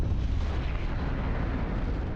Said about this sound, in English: Suddenly a low rumble shook the building.